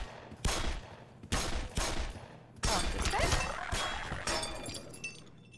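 Gunfire in the video game Black Mesa comes in several sharp bursts of rapid shots with shattering, crashing impacts, loud and close, separated by brief pauses.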